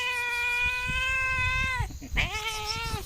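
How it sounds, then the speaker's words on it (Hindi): A cat yowls loudly at a farmhouse in rural India, giving one long, drawn-out meow that breaks briefly before a second strained cry. It sounds close and dominant over faint background noise. "तो यहाँ पर बिल्ली चिल्ला रही है।"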